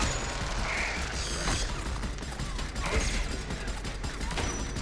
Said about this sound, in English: This gun sounds cool with that ability.